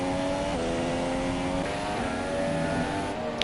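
Formula 1 cars in the video game F1 2017 scream at high revs, loud layered engine whines stepping in pitch through gear changes, continuous and close.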